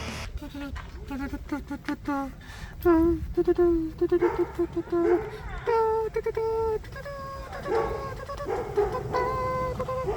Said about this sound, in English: What the fuck is that dog barking for?